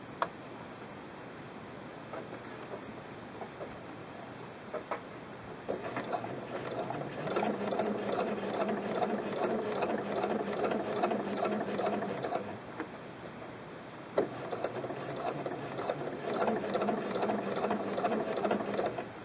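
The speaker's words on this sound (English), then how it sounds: "Now it's fed into that little feeder so that it will turn the fabric over twice and stitch." Sewing machine stitching a rolled hem with a rolled hem foot that turns the fabric over twice, a steady rapid needle patter that runs in two long bursts with a short pause between, close and clear.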